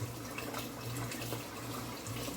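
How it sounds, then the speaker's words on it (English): Tap water runs steadily into a pot as rice is rinsed for a Jamaican-style curry turkey and chicken meal, a continuous close splashing rush with no talk. "You can wash your rice 2 or 3 times."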